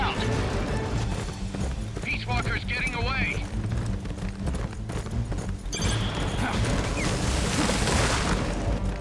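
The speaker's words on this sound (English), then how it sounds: "High-speed horse action" Horse hooves clip-clopping at speed in the video game Metal Gear Solid: Peace Walker, running steadily through the whole stretch, heard close under a dense game soundtrack with spoken dialogue over it.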